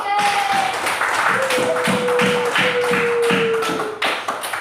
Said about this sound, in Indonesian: Tepuk tangan untuk kelompok satu dan dua